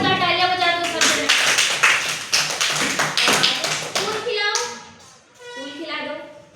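A group of children in a classroom clap loudly in quick sharp bursts for several seconds, then fade as a voice and adult speech take over.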